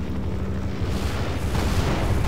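Gunfire from an attacking helicopter in Half-Life: Source, heard as a dense, continuous low rumble of rapid shots and booms that grows slightly louder over a couple of seconds.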